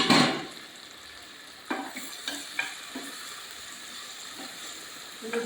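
Tomatoes and salt sauté in a hot pan, a steady close sizzle with a louder burst at the start and a few scrapes of stirring.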